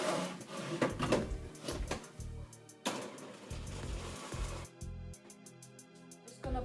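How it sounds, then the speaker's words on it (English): A spice grinder pulsing dates and spices for a pumpkin pie crust, short bursts of whirring motor alternating with pauses and rattling, close and fairly loud, no talking. "add some into the spice grinder as well. And let's start this process of just grinding this up"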